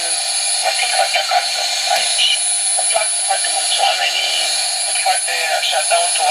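Shortwave radio played through a small LM386 0.3-watt audio amplifier with its noise reduction switched off, giving a steady, fairly loud hiss and crackle with faint, warbling voice-like fragments drifting through.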